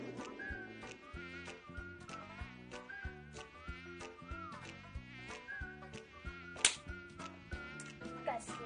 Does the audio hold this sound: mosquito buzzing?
yes